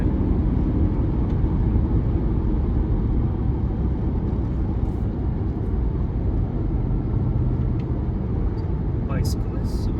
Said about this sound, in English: these naturally aspirated V8s have a nice little low grumble to them when you're